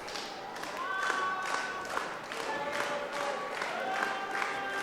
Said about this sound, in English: Like you hear the crowd here at War cheering on Paloma.